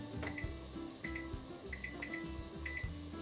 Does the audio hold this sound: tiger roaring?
no